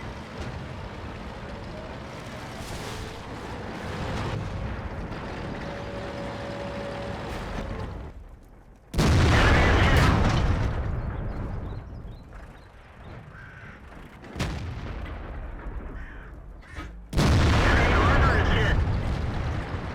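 Tank cannon fire and explosions in the World of Tanks video game: three heavy booming blasts with long rumbling decays, the first two close together and the third a few seconds later, over a steady engine drone.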